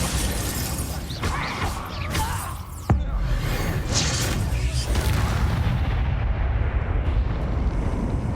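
Bombarda spell blasts in the Hogwarts Legacy video game: a loud, dense booming roar with a sharp impact near the three-second mark, then a sustained rumbling wash of explosive noise.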